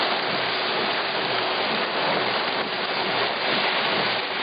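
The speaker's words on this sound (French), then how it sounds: "Puis là, c'est une bonne averse de grêle." A heavy hail shower with hailstones about 1 cm across pounds down in a dense, steady hiss without pause, loud and even throughout, with no voices.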